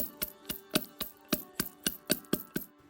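Cocktail ingredients including pistachio and rose water are muddled in a shaker, giving about eleven sharp, evenly spaced thumps in a quick, steady rhythm, close and alone.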